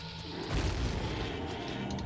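Bomb explosion in The Legend of Zelda: Ocarina of Time, a single muffled boom that bursts out, then a rumbling tail fading off at low level.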